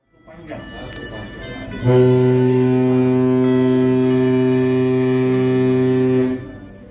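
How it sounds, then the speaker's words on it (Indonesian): A Pelni passenger ship's horn gives one long, loud, steady blast of about four seconds, deep and rich in harmonics, starting abruptly after a quieter stretch of background noise and stopping cleanly. "Jika kapal bunyikan satu panjang setelah berlayar cukup jauh dari pelabuhan"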